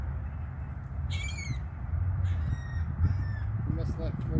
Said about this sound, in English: The seagulls want it, yeah.